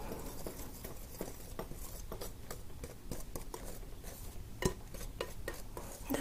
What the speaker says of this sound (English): So I'm just going to stir this up.